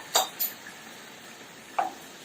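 Tomato sauce and soy sauce are stirred in a pan, heard as three brief, faint scrapes and clinks of a spoon against the pan with a quiet background between them.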